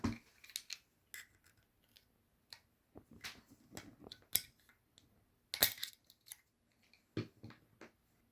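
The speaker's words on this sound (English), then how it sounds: "Now you need a set of lock ring pliers for the back to get the pin out" Lock ring pliers work a lock ring off the back of a Tipx spool valve, giving sparse sharp metallic clicks and snaps spread over several seconds, close and quiet against near silence.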